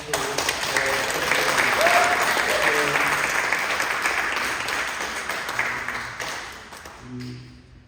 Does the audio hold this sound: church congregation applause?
yes